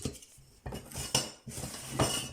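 Small items clink and rattle as a little storage tray is tidied away, bursts of metallic clatter and knocks close by, alone with no talk.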